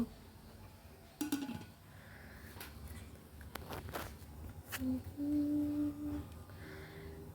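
Chicken curry served from a dish onto a plate of rice: scattered spoon clinks and scrapes against crockery with brief ringing taps, fairly quiet and close, with no talk.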